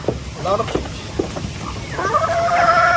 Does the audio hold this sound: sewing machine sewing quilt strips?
no